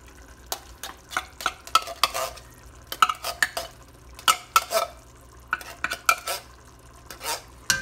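Canned beans are spooned out into a pot, with a series of wet scrapes and clinks of a spoon against the can and pot in an irregular rhythm, close and fairly quiet, without talk.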